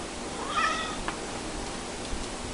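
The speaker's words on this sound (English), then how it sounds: "Oh, I should also say goodbye to the kittens." A kitten being kept in quarantine gives a single short, high meow, followed by a couple of faint clicks against a steady background hiss.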